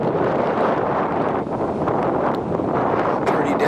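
Steady, loud wind buffeting the microphone on a desolate road by a river in Tibet, a continuous roaring rush with brief gusty dips, no voices.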